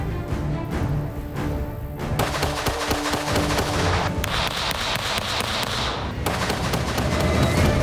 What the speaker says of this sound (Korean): 타겟 A를 향해 양손 사격으로 7발 쏘고 이어 타겟 B를 한 손 사격으로 7발을 쏘아 그 명중률을 확인할 것이다